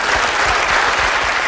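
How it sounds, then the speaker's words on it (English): A studio audience claps steadily in dense, even applause, loud and close, with no voices standing out. "give her a round of applause"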